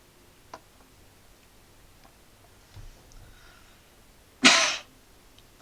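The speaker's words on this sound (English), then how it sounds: "Apologies for the cough." One short, sharp cough bursts out close to the microphone after a few faint ticks and soft clicks in an otherwise quiet room.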